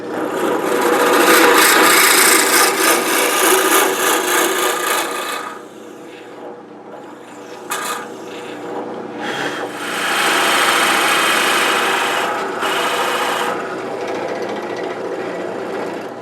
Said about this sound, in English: Just to help guide the next drill bit.